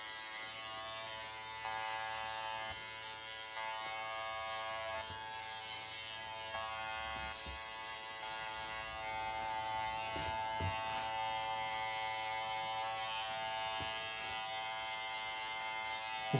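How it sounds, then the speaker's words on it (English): Barber's electric clippers cut hair in a steady, close buzzing drone with faint rhythmic snips and slight shifts as the blade moves, continuous throughout with no talking. "we can hear the hair being cut"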